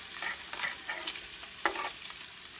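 Food cooking on a Ninja Foodi grill griddle pan, sizzling softly with a few light scraping bursts as pieces are flipped, moderately close, no talking.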